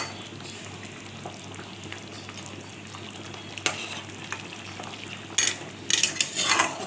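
Mango sauce with black cumin and mustard paste simmering in a pan gives a steady, soft bubbling and sizzling hiss, joined near the end by a few brighter scrapes and clinks of a stirring spoon.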